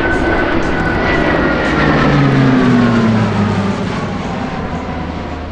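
An Alenia C-27J Spartan military transport aircraft making a high-speed, roughly 3G turn at an airbase air show, its loud turboprop engine roar sustained and close with a slowly shifting, droning pitch.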